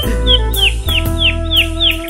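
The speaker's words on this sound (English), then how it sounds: "I did manage to grab myself the canary while I was in there" A canary gives a rapid series of bright, sharp chirps, about six in quick even rhythm, loud and close. A low steady drone sits beneath them.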